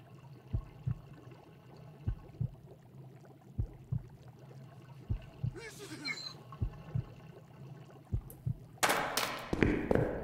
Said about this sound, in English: I've been hearing the same heartbeat for a while now.